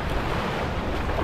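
Steady broadband wash of sea waves at a sandy beach in Thailand, a close continuous roar with some wind buffeting the microphone and no talk.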